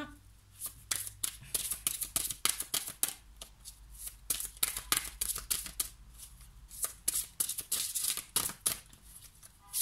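Cards being shuffled and drawn during a reading, a run of crisp riffling flutters and snaps, close and fairly quiet, coming in irregular bursts with brief pauses between.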